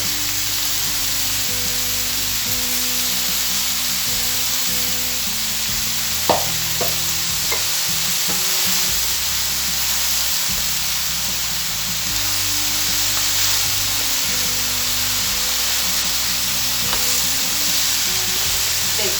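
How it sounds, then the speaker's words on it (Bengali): Chopped bottle gourd fries in a pan for a fish-head lau ghonto, giving a steady, close sizzle throughout with occasional scraping stirs of the spoon. "জল দেওয়া যাবে না, খালি ঢাকা দিয়ে দিয়ে নাড়াচাড়া করে রান্না করতে হবে।"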